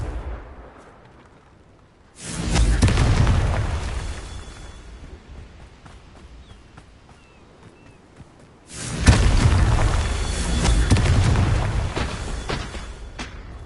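Two booming Confringo spell explosions from the Hogwarts Legacy video game, each a sudden loud blast that rumbles and decays over several seconds, separated by a quieter stretch.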